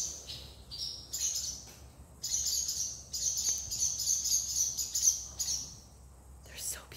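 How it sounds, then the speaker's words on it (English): Starlings chirping outdoors in a flock, a dense run of high, buzzy whistles and tweets in uneven bursts, moderately close, over a quiet background. "I love starlings."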